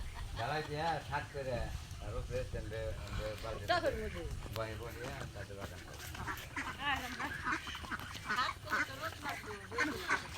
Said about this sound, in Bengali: ছোট ছোট হাঁস কিনছিল এগুলো বড় হয়ে গেছে দেখেন